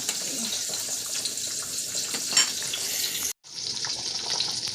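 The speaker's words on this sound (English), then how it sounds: "I take these off, and I'm washing them with some warm water." Warm tap water runs steadily over cabbage leaves being washed in a kitchen. It is a continuous splashing hiss that cuts out briefly near the end and then resumes.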